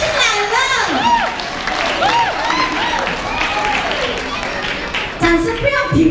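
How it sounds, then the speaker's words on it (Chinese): An audience applauds and cheers at an Atayal church Christmas event in Wulai, with children's voices and crowd chatter mixed into the steady clapping. "掌声鼓励多一点"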